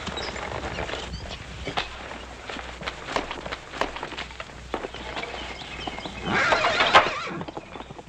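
A horse neighs and whinnies loudly with clip-clop hooves in a Western outdoor scene, hoofbeats running throughout and a shrill whinny rising near the end, close and prominent.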